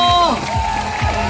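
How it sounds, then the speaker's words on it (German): Crowd applauding at a mountain bike World Cup race in Aalen, a steady wash of clapping and cheering with a prominent announcer's voice over it. "Applaus für Stefan"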